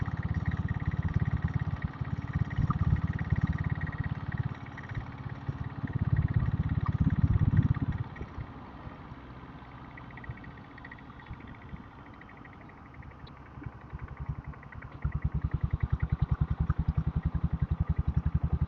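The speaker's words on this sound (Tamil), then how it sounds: "இது வந்து 5 HP டீசல் என்ஜின் தான்" Royal Enfield Bullet fitted with a 5 HP diesel engine riding through Chennai city traffic, a steady low thumping chug that swells, eases off in the middle and returns louder, with faint traffic around it.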